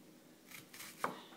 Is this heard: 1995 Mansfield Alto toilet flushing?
no